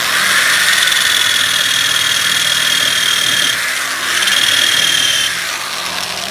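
A power tool strips seam sealer from the body of a GM Chevelle, making a loud, continuous high-pitched whine with a steady squealing tone that dips briefly partway through, with no voices.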